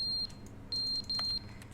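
A smoke alarm in the video game Stanley Parable Ultra Deluxe gives off piercing, shrill beeps, one cut off at the start and then two longer ones, over a low hum of game ambience.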